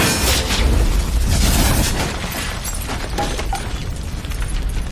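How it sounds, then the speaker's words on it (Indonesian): A building blows up in a film scene after a gas pipe is left leaking, heard as a loud, dense roaring explosion with crackling debris that stays heavy throughout and slowly tapers, with no talk. "membocorkan pipa gas untuk meledakkan gedung"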